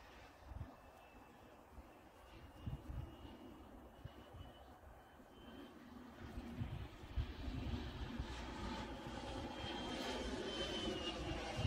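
Electric ducted fan model jet, an HSD L39 on a 12-cell setup, flying on its second maiden flight, its steady whooshing fan roar building louder and closer across the clip with no talk.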